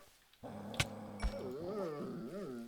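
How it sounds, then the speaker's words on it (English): Dogs growling in a video game, a low sustained warbling snarl with a few sharp thuds over it, fairly close and loud. "More dogs."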